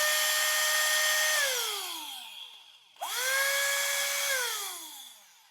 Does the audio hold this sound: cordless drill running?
yes